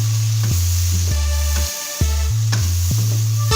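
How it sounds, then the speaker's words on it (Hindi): Spices being stirred into tomatoes frying in a pot for palak gosht with chicken: a sizzle over a steady, loud low hum, broken by several sharp knocks and scrapes from stirring, with no talk. "ये सारे मसाले ऐड कर देंगे और इनको मिक्स कर लेंगे अच्छे तरीके से"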